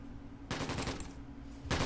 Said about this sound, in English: we've got some gunshots going on